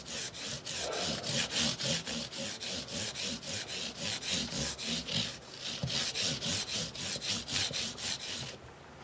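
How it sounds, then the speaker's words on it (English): A StewMac buffing pad rubs back and forth along the bound edges of a Steinberger Spirit guitar body in a steady rhythm of close, raspy strokes, about three per second, with no other sound. "I also will take one of my StewMac buffing pads that I have and hit the edges like this"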